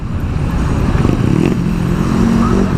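A one-year-old motorcycle engine runs steadily on a busy highway, a loud, continuous rumble with a slight clatter and no break across the whole stretch.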